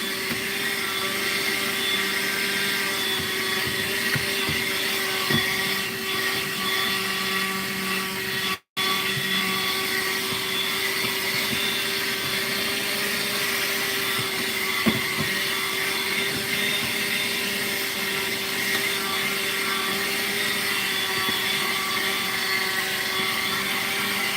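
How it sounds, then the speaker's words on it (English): A steady, droning vacuum motor runs continuously with a constant whine while sucking up sand, briefly cutting out once, with faint scraping underneath. "In order to stay on top of the sand, you almost have to vacuum every day."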